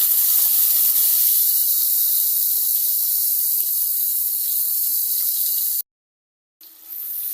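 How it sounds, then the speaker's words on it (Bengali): Onion paste fries in a pan for a rohu fish curry with eggplant, giving a steady, loud, close sizzling hiss that cuts out briefly near the end before resuming. "পেঁয়াজগুলো বাটা দিয়ে দিয়েছি এখন এক মিনিটের মতো ভেজে নিব"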